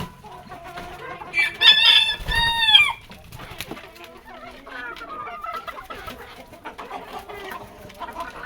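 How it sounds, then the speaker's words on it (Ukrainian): Chickens, including a Marans hen, cluck in a backyard coop, with one loud burst of squawking and crowing-like calls early on followed by softer, scattered clucks nearby. "У мене курочка Маран тут з ними живе"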